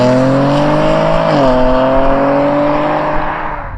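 A Holden Commodore VXR driven hard in VXR mode, its engine roaring loud and steady with a brief dip in pitch as it shifts gear, then pulling on and easing slightly toward the end.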